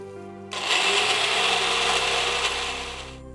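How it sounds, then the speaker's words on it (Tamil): A kitchen blender grinds onion, dried red chillies and salt into a coarse chutney for adai dosa, starting abruptly with a loud, steady whirring roar that holds for nearly three seconds before winding down. "ஜஸ்ட் அப்படியே வெங்காயம் காஞ்ச மிளகாய் உப்பை மட்டும் சேர்த்து அரைக்க போகிறோம்"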